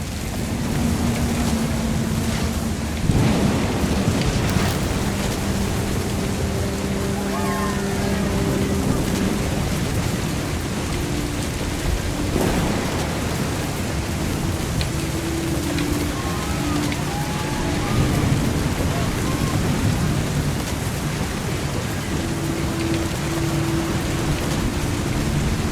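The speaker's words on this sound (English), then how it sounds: "The thunder sounded much too close and full of angry power." Thunder and steady rain from the video game What Remains of Edith Finch: a constant hiss of rainfall with deep thunder rumbles rolling in and out, and a low tonal hum beneath the storm.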